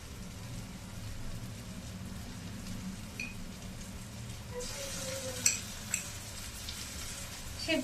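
Poppy seed paste frying in a pan on a gas stove, a faint, steady crackling hiss with a few sharper pops toward the end.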